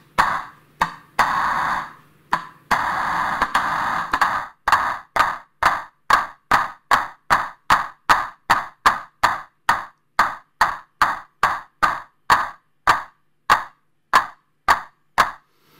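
Pulsar-23 drum machine clap voice triggered as a long series of sharp, dry electronic clap hits, first in dense bursts, then settling into a steady, evenly spaced rhythm of crisp isolated claps with silence between them.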